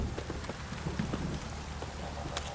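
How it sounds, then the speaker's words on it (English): A heavy downpour in The Witcher 3 hisses as a dense, steady wash of rain with scattered drops and faint clip-clop hoofbeats blended in, continuous throughout. "This downpour's a bastard,"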